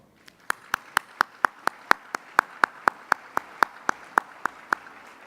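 About twenty sharp, evenly spaced claps in a steady rhythm at an awards banquet, close and distinct, like a single person or small group clapping in unison.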